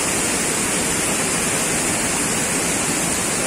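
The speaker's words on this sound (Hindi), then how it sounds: "भटिंडा फॉल झरना" Close, constant rushing roar of water plunging at Bhatinda Falls, a dense unbroken wash of noise with no talking over it.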